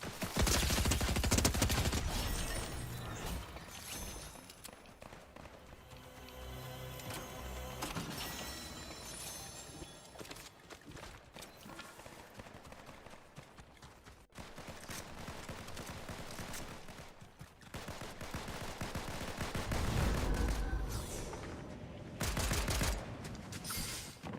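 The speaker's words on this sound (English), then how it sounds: "More shooting, huh?" Dense gunfire from a Fortnite match, bursts of shots and shattering crashes running almost the whole time, loud and close with brief quieter gaps between volleys.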